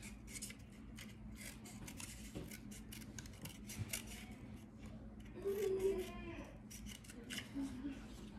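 Scissors snip through a cardboard toilet roll in repeated short crisp cuts under a person's quiet talking.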